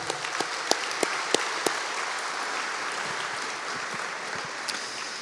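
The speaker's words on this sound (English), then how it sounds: "can we give a round of applause for the team?" An audience at a banquet event claps for the event team, a dense steady applause with a few sharper individual claps near the start, sustained evenly to the end.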